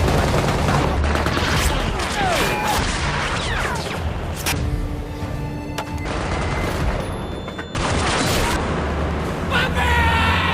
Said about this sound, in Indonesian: Qabil pun langsung mengerahkan pasukannya untuk menembak dan inilah yang terjadi.